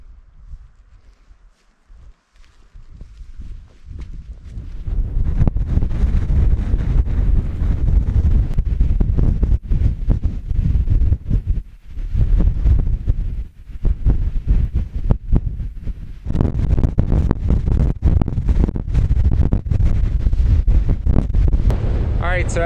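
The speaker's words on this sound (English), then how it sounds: "the wind hasn't gotten any better" Strong wind in the Welsh mountains buffets the microphone in loud, roaring gusts that rise after a quiet start and keep surging with brief lulls, rough and continuous throughout.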